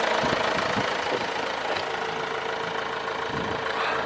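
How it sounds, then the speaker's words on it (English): Vauxhall Movano long-wheelbase van engine idling smoothly at around 45,000 miles, a steady low diesel hum with soft rhythmic knocking, recorded close with no voices. "this engine is running very smooth"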